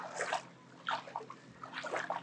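Barefoot steps wade through clear, shallow water over white sand near a mangrove plantation, making three separate sloshing splashes spaced about a second apart against a quiet background.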